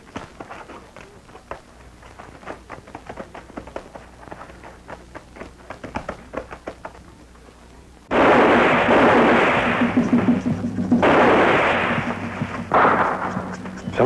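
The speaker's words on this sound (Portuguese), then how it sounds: "São tiros. Vem da fazenda." Faint, scattered cracks at first, then a heavy, roaring barrage of gunshots and booms takes over for the second half, loud and sustained.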